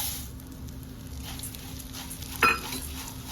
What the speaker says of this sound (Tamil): இதுலேயே அவளும் போட்டு வறுக்க போகிறோம் பாருங்க